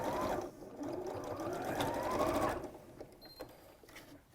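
Close, steady whirring of a sewing machine tacking across fabric during dressmaking runs for a few seconds, then stops, leaving faint handling sounds.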